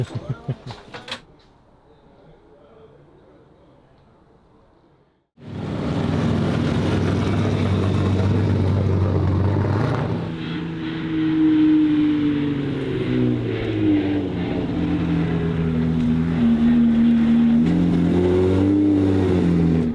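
Rally car engine on a test lap at Mondello, a short burst of noise then a loud, sustained engine roar that rises and falls through revs, close to the microphone, with no talk over it.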